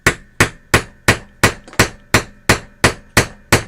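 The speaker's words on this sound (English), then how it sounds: "I'm going to try to hit the hammer, Michael." A hammer strikes eleven times in a steady, evenly spaced rhythm, each blow loud, sharp and close with a brief ringing decay, and no voices.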